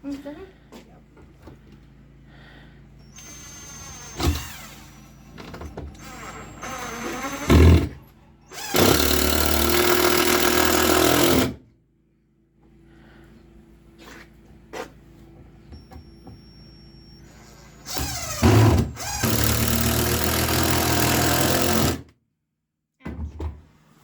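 A power drill unscrews screws from a wooden board, whirring in two long loud runs and several shorter bursts, with people talking between them.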